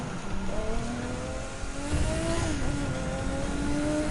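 A racing car engine in The Crew 2 revs steadily, its pitch rising and dipping through gear changes with tyre noise beneath, loud and continuous with no talk; the car could be a 1970 Porsche 917K.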